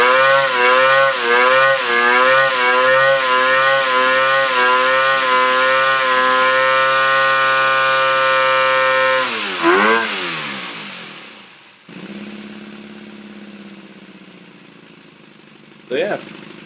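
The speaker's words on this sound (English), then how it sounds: "Let's go ahead and rev it out. And let it sit on the red line for a while." Inline four crossplane two-stroke 8cc air-powered model engine with tubular exhaust, a loud harmonic buzz that pulses, climbs and holds near redline, then drops away with a short blip near the end.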